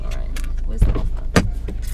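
A car is started with a push-button ignition, with brief mechanical clicks and a short whirring thunk under people talking nearby inside the vehicle.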